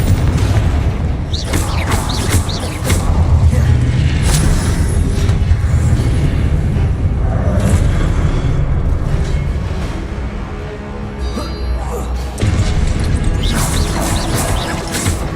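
Loud, continuous booms and crashes of Confringo spell explosions in the Hogwarts Legacy video game, layered with game effects and thumps that run through the whole stretch with almost no pause.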